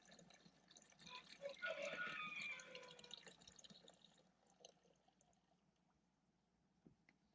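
White wine is poured into a hornet trap beside beehives, a faint trickling stream that swells briefly then dwindles to scattered drips in a quiet outdoor setting.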